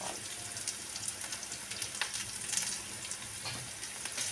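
Spices sizzle and crackle in hot oil for charu, a dense continuous frying hiss with small pops throughout, close and steady.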